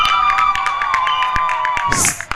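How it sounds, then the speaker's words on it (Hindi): A stadium crowd at a youth premier league cricket semi-final claps and cheers. Brisk, scattered hand claps ring out over a steady tonal background, with a louder burst of cheering near the end. "एका के चाहने वाले तालियां बजाएं"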